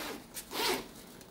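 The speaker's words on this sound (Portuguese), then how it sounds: "Positivo, quando o fecho corre muito bem, assim, livre, leve e solto, tem menos chance de arrebentar." A zipper on a small bag is pulled closed in one smooth, quick run, rising to a short rasping peak close by, with no talk.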